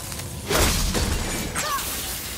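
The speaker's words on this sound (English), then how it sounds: "I will never get tired of shattering things with this" Objects shattering in the God of War video game, a crunching break near the start followed by scattered debris and faint whooshes, no talking.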